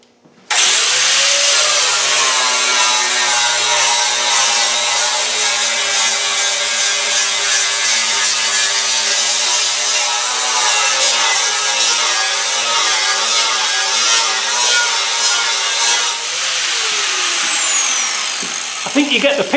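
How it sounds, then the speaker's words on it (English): An angle grinder with a flat wheel grinds off the door skin of a Land Rover Defender, a loud continuous high-pitched metallic whine that holds steady for about fifteen seconds before spinning down, close up with no clear speech. "I'll be back in a minute when I've got it all ground off"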